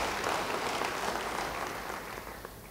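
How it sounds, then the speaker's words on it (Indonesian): Applause from a church congregation rises as a steady wash of clapping, fairly distant and soft, slowly tapering off toward the end. "Yang percaya beri tepuk tangan bagi dia"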